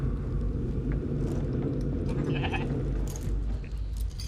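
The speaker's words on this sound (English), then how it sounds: "It is a sheep." A sheep in the video game D-Extinction bleats a few times over a constant low rumbling background hum, the calls fairly faint and wavering.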